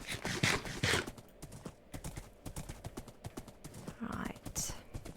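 Horse walking in the Minecraft video game, a run of soft, quiet hoof clip-clops in an uneven rhythm, faint and close, with brief brighter clicks mixed in.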